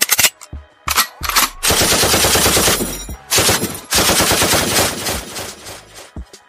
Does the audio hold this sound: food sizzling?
no